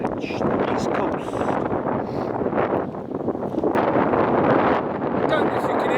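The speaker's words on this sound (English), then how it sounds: "I don't know if you can hear me, it's very windy." Strong coastal wind roars across the microphone in a continuous heavy buffeting rumble on a beach walk along the east coast of the Isle of Man, with a voice partly buried in the wind noise.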